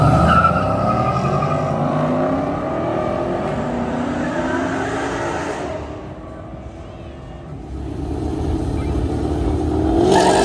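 A Mustang drag racing car accelerating hard at a drift and drag event, loud rising engine roar with climbing revs and tire noise, close then fading before another surge.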